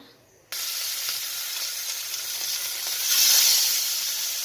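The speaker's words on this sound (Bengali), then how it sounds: "মাছটাকে সাইড ভেজে নিয়েছি আর এক সাইড ভেজে নেবো" Rohu fish, coated in salt and turmeric, drops into hot mustard oil and sets off a sudden loud sizzle that keeps hissing steadily and swells briefly partway through, with no talking.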